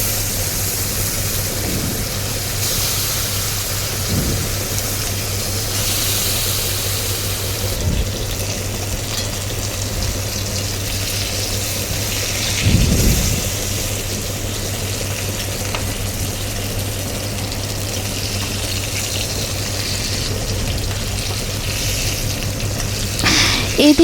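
Fish pieces frying in very hot oil for a Bengali bata fish curry with potato and eggplant, giving a steady, loud sizzle throughout with a few brief clatters and louder bursts as pieces go in, no talk.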